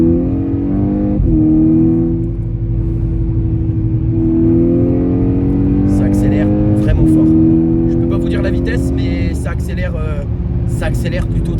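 A VW Golf 6 GTI Edition 35 in sport mode, dropped to second gear and accelerating hard, its engine note climbing steadily through two upshifts, loud and close, while someone talks over it.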